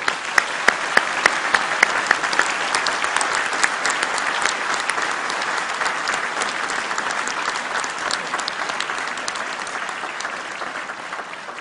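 A large audience claps steadily and warmly for several seconds, the applause building quickly and holding at an even level without cheering.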